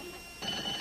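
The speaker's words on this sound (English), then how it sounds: "That's just the alarm clock, Pete." An alarm clock goes off, a sudden bright metallic ringing that starts partway in and continues steadily, moderately loud against a quiet room.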